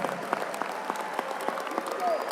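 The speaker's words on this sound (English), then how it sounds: "Would you give a thunderous applause, make some noise, and clap your hands all over this room?" A large conference audience at a 100 Black Men event keeps clapping in a big hall, a continuous patter of many hands with sharper single claps and faint voices mixed in, moderately distant.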